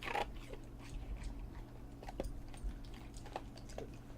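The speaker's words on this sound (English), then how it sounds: "You processing the ice, Balapootsti?" A pet crunches ice on a bedroom floor, giving scattered crisp bites and cracks with softer chewing in between, close by and fairly quiet over a low background hum, with no voices.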